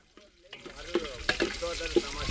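Onion and garlic frying for a village chicken curry. Loud, crackling sizzle with repeated stirring strokes and clacks in an uneven rhythm. The clip opens with a quiet moment before the frying swells up close.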